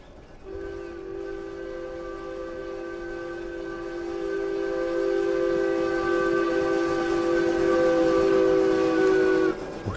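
A steam locomotive hauling a passenger train sounds a long, sustained whistle with a strong tonal chord while the train runs, the rumble growing louder beneath it.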